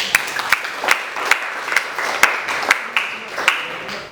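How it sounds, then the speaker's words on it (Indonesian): Students in a physics class applaud themselves, a few sharp, distinct claps spaced roughly evenly over a light background patter, fairly close and loud, with no speech. "Tepuk tangan buat kita."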